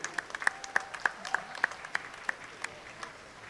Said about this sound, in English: Please, everyone, give a big round of applause